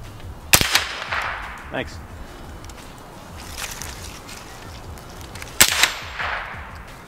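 Two sharp outdoor gunshots ring out several seconds apart, each loud crack followed by a brief echoing tail, with a few quiet words spoken in between.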